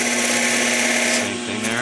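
A wood lathe cuts a wooden pencil barrel for a Pentel pencil, a loud, continuous droning hum with a steady scraping edge, close up and unbroken.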